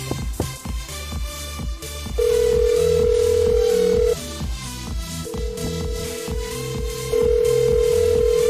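An incoming call rings as a loud electronic tone in two long sustained bursts, heard over steady background music with no talking.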